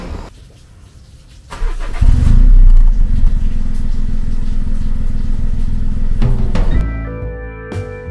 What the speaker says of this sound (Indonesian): sekarang kita udah di jalan dengan Mini Cooper ini